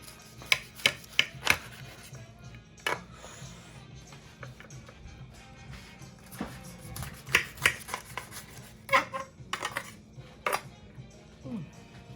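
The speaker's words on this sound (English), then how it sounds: "I'm going to cut it in half" A knife cuts a smash burger in half, heard as scattered sharp taps and scrapes of the blade on a board or plate, with clusters of clicks and quieter rubbing in between, no voices.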